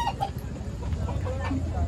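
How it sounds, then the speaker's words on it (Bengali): Chickens clucking nearby in short, scattered calls, with people talking over and around them. "এই আয় মুরগি দেখি।"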